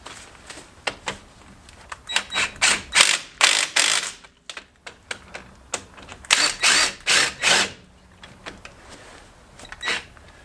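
Ratchet spinning in bursts as brake caliper bolts on a Ford Transit Custom front brake are wound in, a rapid clicking run repeated several times with short pauses, close and fairly clear.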